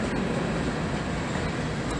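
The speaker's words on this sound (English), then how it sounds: "you can hear that train all through downtown Dalton" A freight train rumbles through downtown Dalton, a steady, distant low roar with broadband rail noise and no distinct horn, continuous throughout.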